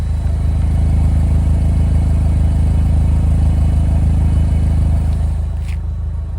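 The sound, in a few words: 2009 Saturn Sky Redline dual exhaust running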